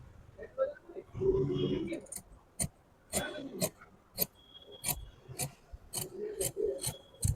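Fabric scissors cut the front curve of a four-tuck blouse, giving a series of sharp, close snips with short rasping cloth rubs between them.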